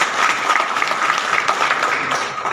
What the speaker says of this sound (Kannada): ಅವರು ಚಪ್ಪಾಳೆ ಹೊಡಿಬೇಕು ಬೇಡ ನೀವು